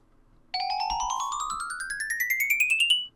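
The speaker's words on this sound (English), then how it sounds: "Gold blocks provide a bell sound." A Minecraft note block set on a gold block plays a bell tone, one clear chime that rises steadily in pitch and then repeats as a rapid train of bright, ringing notes, loud and with no voices.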